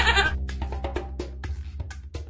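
A goat bleats in a children's farm animal game, giving a loud, close, wavering cry that breaks into several quick pulses and lasts about two seconds.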